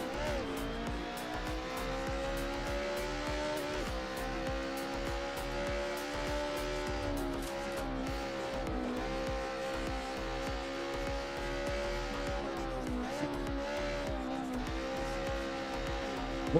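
A race car in a racing simulator drives with its rear end sliding out, the engine droning steadily while tires squeal intermittently over the continuous run.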